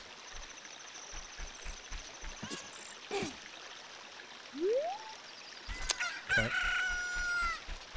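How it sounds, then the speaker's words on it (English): Chicken clucking and a rooster crowing in the Legend of Zelda: Ocarina of Time video game, a few scattered clucks and a crow standing out over a steady ambient game background. "Yep, chicken's still there"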